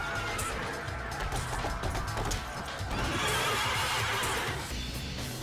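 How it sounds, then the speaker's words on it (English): A horse pulling a coach in the video game Devil May Cry 3 neighs and whinnies loudly over a busy, continuous stream of galloping hoofbeats and game noise, with no talk. "Garyon is a horse pulling a coach."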